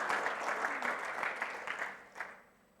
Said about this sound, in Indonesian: boleh tepuk tangan panjang bagi Tuhan Yesus